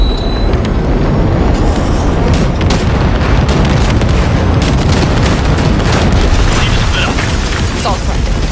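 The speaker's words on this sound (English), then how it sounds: "there's a monster gate that needs to be blown open" Explosives blow open a massive gate in Cyberpunk 2077, producing a loud, sustained roaring blast with continuous rumbling debris and crackle that carries through the whole stretch.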